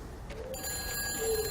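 A telephone rings in the video game Everybody's Gone to the Rapture, a steady electronic bell tone that starts partway through and continues over a low ambient hum, with no talking.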